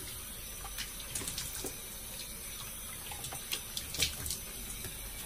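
A sink tap runs steadily to rinse shaving foam off after a razor shave, a continuous close rush of water with a few small splashes and clinks, no voices.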